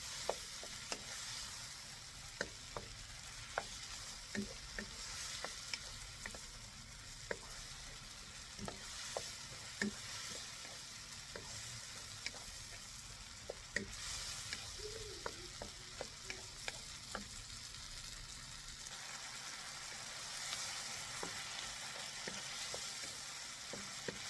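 Tomato and vegetables sautéing in a pan for pork adobo, a steady close sizzle with frequent spatula taps and scrapes recurring at irregular intervals, no talking over it.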